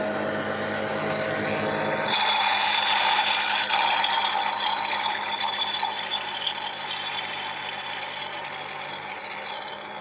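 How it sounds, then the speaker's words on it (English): Small electric pump sucking leftover oil from the oil filter chamber of a 2018 Seadoo 300 GTX: a steady buzzing, rattling mechanical whir that starts abruptly a couple of seconds in and runs continuously, close by. "I'm going to turn the pump back on and see if I can't just suck that out."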